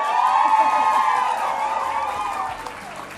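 Cheering and whooping from a crowd fills the room at full volume, then fades slightly toward the end, with a few voices mixed in.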